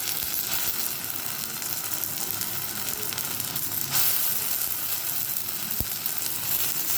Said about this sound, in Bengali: এবার পেঁয়াজগুলো ভাজা ভাজা হয়ে এসছে, এবার পেঁয়াজের মধ্যে পেস্টগুলোকে দিয়ে দিচ্ছি।